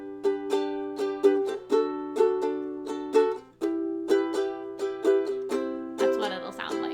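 Ukulele strummed in a down, down, down, up, down, up pattern for the chorus of a song, steady bright chords repeating in close, even rhythm, played alone.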